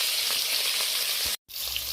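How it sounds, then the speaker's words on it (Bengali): Bhetki fish pieces fry in hot oil with a dense, steady close sizzle that cuts out for an instant before resuming. "অল্প অল্প করে মাছ দিয়ে মাছগুলো ভালো করে গোল্ডেন ব্রাউন করে ভেজে নেব"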